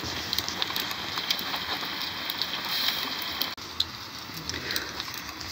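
Steady rain falls during a storm as a constant hiss of droplets with scattered sharper drips, fairly close and even throughout, with no voices.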